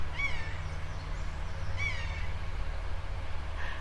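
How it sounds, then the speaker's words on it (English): A red kite, a bird of prey, cries overhead in woodland with two clear wavering calls a second or so apart, over a steady low drone of a large lawnmower. "the cry of a bird of prey. I think it's a red kite and it's flying directly overhead."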